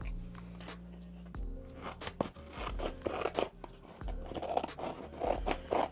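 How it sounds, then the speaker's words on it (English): Crisp snipping and scraping of scissors slicing through a thin vinyl sheet, several cuts in short bursts with rustling between them, close and fairly quiet. "All I'm gonna do is take some scissors and cut off what we don't need"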